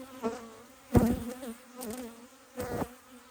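Honey bees buzz around an opened hive during an October inspection, with a few close passes swelling and fading over faint background hum.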